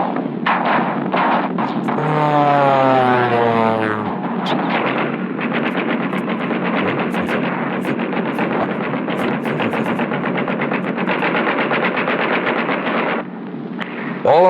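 Heavy WWII bomber formation on a bombing run over target, with continuous loud rattling gunfire and booming bursts throughout, a dense roar that never lets up, with a rising swept tone early on.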